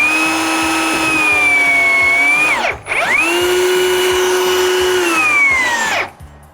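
A handheld power rebar cutter whines loudly and close, its motor dipping in pitch as the jaw bites through the rebar, then revving again and winding down at the end.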